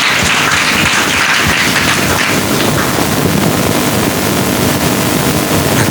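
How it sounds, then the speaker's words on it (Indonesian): A church congregation at a Sunday service applauds, a loud, continuous wash of many hands clapping that stays steady throughout, filling the room with dense noise. "Mari kita berikan tepuk tangan bagi Tuhan."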